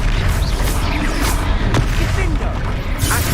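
A Confringo spell explodes in the Hogwarts Legacy video game, a loud, dense rumble of booms and blasts that continues without a break, close and heavy.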